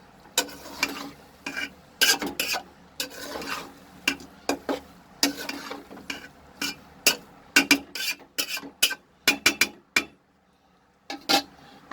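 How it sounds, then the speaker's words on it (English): A spoon stirs keema khichdi with fried potatoes in a pan, irregular bursts of scraping and clinking against the metal, some quick and clustered, with short pauses between strokes. "I'll mix everything."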